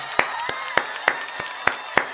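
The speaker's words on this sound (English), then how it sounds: "we got to give a huge round of applause to Beyonce" Slow, even handclaps at a GRAMMYs recap cheer for Beyonce: six crisp claps in a regular beat, close and fairly loud, with no talking.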